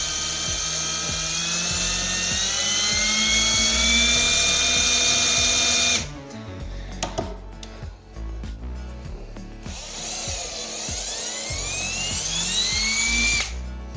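A power drill whines at high speed drilling pilot holes into glulam for cabinets, pitch rising as it bites in, pauses with some handling clatter, then spins up and drills again.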